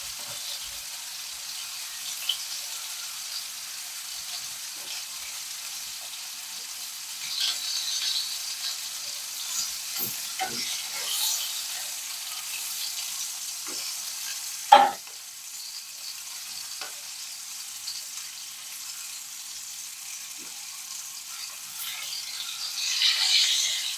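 Chicken cutlets searing in a pan give a soft, steady sizzle with faint scrapes and one sharp clack midway, quiet and close with no talking.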